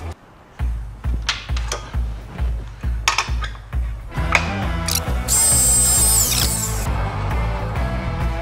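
A power tool cuts through a workpiece at a guide mark set to 25.5 centimetres, for a wine bottle holder: a string of short drill-like bursts, then a sustained loud whine near the end.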